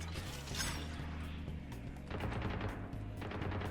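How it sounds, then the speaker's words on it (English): Rapid bursts of gunfire from a Valorant match sound at moderate distance, mixed with clicking mechanical ability noises and a steady low game hum, with no talking. "here we hear gunfire"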